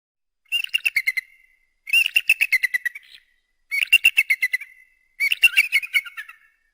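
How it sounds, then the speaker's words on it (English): An eagle repeats four rapid, high chittering call series, each a quick run of sharp piping notes lasting about a second, close and clear against silence. "eagle"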